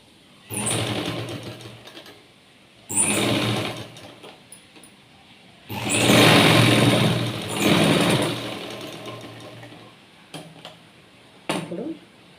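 A sewing machine stitches folded fabric in several loud, close bursts of rapid mechanical whirring separated by short pauses, with occasional small clicks between runs.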